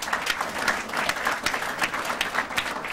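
Audience at a Wednesday morning breakfast club meeting applauding donors, a dense, steady burst of clapping from a roomful of people lasting a few seconds.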